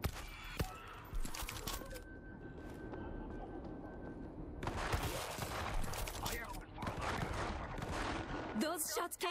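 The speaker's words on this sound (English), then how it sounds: "Those shots came from the highway." Distant bursts of gunfire and scattered shots ring out in World War Z's Tokyo level, mixed with game ambience and a sustained tone, before a louder volley of shots closes it out.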